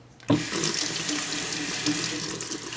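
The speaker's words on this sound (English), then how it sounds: "you're going to soak this in warm to hot water" Warm water gushes steadily from a tap to soak a layer of wool, starting abruptly and running on in an even, close rush with no talking.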